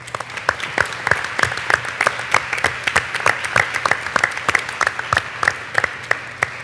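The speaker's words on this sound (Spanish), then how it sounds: "nuestra compañera Nadine, merecen otro fuerte aplauso, por favor." A crowd at a children's rights panel before the Inter-American Court of Human Rights claps steadily and enthusiastically, with sharp individual claps standing out above a dense wash of applause throughout.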